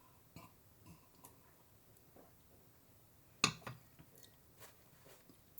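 A single loud burp after drinking beer bursts out in the middle of a quiet indoor scene, surrounded by faint chewing and small clicking sounds.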